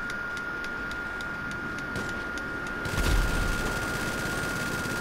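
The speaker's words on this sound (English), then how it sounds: "What are you shooting me for?" Gunfire from the video game Grand Theft Auto V: a burst of loud impacts near the three-second mark over a steady hum and faint rhythmic ticking, the shots blending into a dense, rumbling blast.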